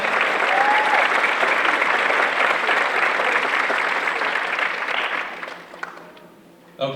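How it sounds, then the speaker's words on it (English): Audience applause rises after a holiday band concert's jazz set with piano, trumpet and tenor saxophone, a dense, steady clapping from a hall full of people that holds for about five seconds, then thins and fades, with a brief last burst near the end. "Let's give them a round of applause."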